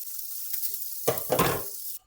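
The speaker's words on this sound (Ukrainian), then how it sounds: "Окремо на пательні підсмажую бекончик." Bacon frying in a skillet, a steady close sizzle with brief bursts of louder crackle and stirring in the middle before it cuts off.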